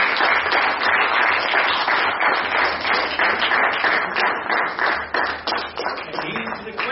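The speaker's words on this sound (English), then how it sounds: "let me call first Mr. Saqib Saleem with the huge round of applause." Audience applause welcoming a speaker at a memorial gathering, a dense, steady wash of many hands clapping close by, sustained for the whole stretch with a murmur of voices mixed in.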